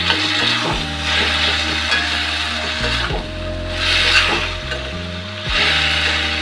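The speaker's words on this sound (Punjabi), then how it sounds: "ਇਹਨਾਂ ਨੂੰ ਅਸੀਂ 3-4 ਮਿੰਟ ਇਸ ਤਰ੍ਹਾਂ ਹੀ ਚੰਗੀ ਤਰ੍ਹਾਂ ਫਰਾਈ ਕਰਾਂਗੇ" Tomatoes with cashews and salt fry in a pan while a spoon stirs and scrapes them, a steady close sizzle broken by rhythmic scraping strokes, with no voices.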